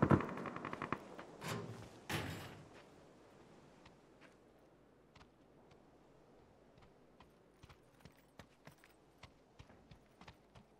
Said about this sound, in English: Oh, shotgun going off. S12K.